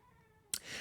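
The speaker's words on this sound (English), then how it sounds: "by the way, if you hear meowing, it's my cat down here." A house cat meows indoors, one short loud call breaking in after a quiet stretch of faint background tone, with a lower trailing note near the end.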